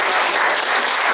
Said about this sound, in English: A big round of applause for our